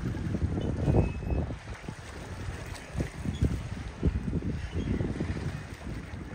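Wind gusts buffet the microphone beside Lake Lanier at Aqualand in Georgia, a steady low rumble with stronger surges and no talking.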